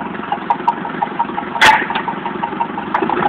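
A MerCruiser 3.7 L 150 hp four-cylinder Alpha One boat engine runs at a loud, close, steady idle with a throbbing pulse, and a sharp clunk sounds partway through.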